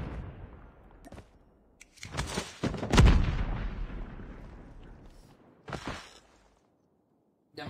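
Grenade blast in the Dark Void video game, a loud booming burst around the middle with a long rumbling tail, followed by a shorter crack and fading game noise.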